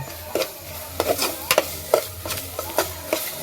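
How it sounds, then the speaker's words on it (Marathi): Spice masala is sautéed in oil for a village-style chicken dish: close, rhythmic spatula scrapes and stirring strokes repeat every half second or so over a soft, continuous sizzle. "हा मसाला व्यवस्थित तेलामध्ये परतून घ्यायचा"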